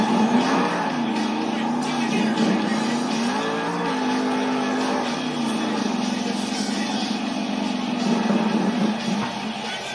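Monster truck engine roars continuously at a Monster Jam arena event in Salt Lake City during a sky wheelie, pitch rising and falling with throttle, loud and sustained throughout with crowd ambience.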